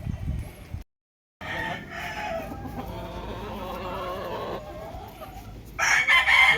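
Chickens, including gamefowl hens, cluck and a rooster crows nearby at a farm in Santor, Tanauan City, a busy continuous farmyard chorus with a brief gap of silence early on.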